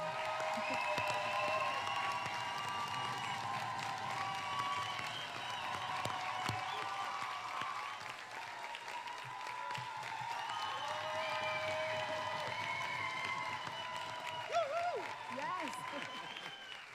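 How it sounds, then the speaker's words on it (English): Sustained applause from an awards ceremony audience, honoring someone absent, with cheering and crowd noise blended in and voices carrying over the top throughout. "a moment of thundering applause so she can hear us right wherever she is"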